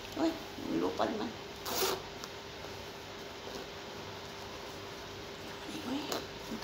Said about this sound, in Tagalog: Sira ang zipper mo.